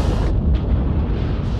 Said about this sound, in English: Underwater explosion.